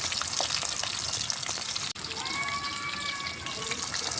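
Dagupan milkfish (bangus) frying in a pan, a steady close crackling sizzle of hot oil that continues without pause.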